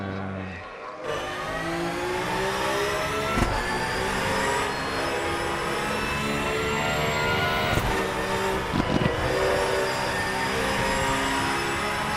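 Race car engine heard from the in-car view in the RaceRoom sim racing game, a loud steady high-pitched drone with shifting revs and brief gear-change blips, unbroken for the whole stretch.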